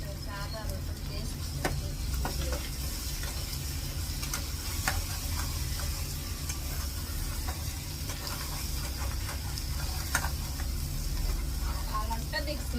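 Ginger garlic paste sizzles in a hot pan, a continuous close frying hiss with scattered scraping stir clicks, a low background rumble beneath.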